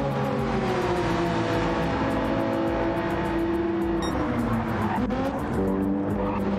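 Race cars on the Autopolis circuit in a video game race, loud continuous engine howl with shifting pitch and gear changes, tire squeal and skidding, with rhythmic ticking and a voice underneath.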